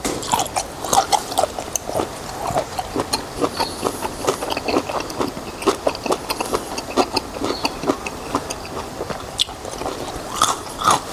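Someone chews crunchy octopus soaked in a seafood fermented fish sauce, close up, with repeated crisp bites and wet chewing in an irregular rhythm and no talking.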